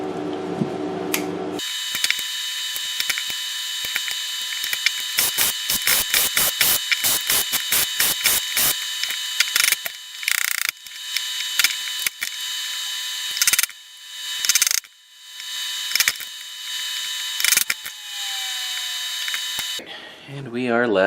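A resin mold of tie-dyed cotton shirt fabric is unscrewed with a power driver, giving loud whirring bursts and rapid ratcheting clicks, followed by irregular clunks and scrapes as it is pried apart.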